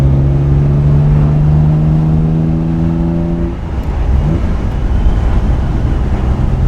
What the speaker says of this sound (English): Great British exhaust note.